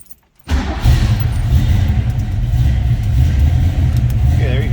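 A 1965 Ford Mustang Fastback engine cranks and catches after a moment of quiet, then settles into a loud, deep, close rumbling idle that holds steady.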